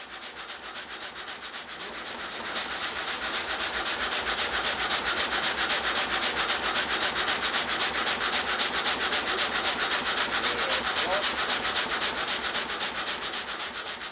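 A chainsaw grinds steadily through a wooden log in forestry work, a loud, continuous buzzing rasp with a fast regular pulse that holds unbroken throughout.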